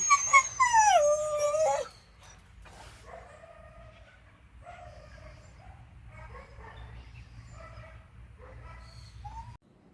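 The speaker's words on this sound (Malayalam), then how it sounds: "അപ്പുറത്തെ ബ്ലാക്ക് പട്ടിയാണെന്ന് തോന്നുന്നു." A black dog lets out a loud, wavering howl, then gives several quieter, strained barks and yelps, spaced apart.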